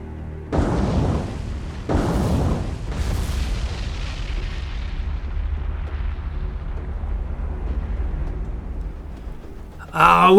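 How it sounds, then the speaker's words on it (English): Torpedo hits and a ship's magazine explosion in the naval combat game War on the Sea: three loud booming blasts in quick succession, the last one rolling into a long, low rumble that slowly fades, then a sharp burst of sound right at the end. "we did successfully get the county. Actually got a magazine explosion on that"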